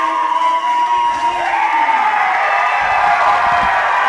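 A large arena crowd at a fight roars and cheers in a sustained wash of noise, loud and steady, with shouts and whoops rising through it.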